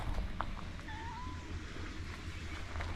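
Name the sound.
cat meowing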